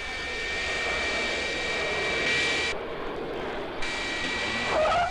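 Loud, sustained roar of a four-engine aircraft at full throttle with one engine not responding, steady whine, briefly dipping before surging again, close and continuous.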